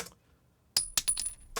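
A spent shell casing drops onto a hard floor, giving a sharp metallic clink followed by several quick, lighter bounces and rattles, close and isolated in quiet.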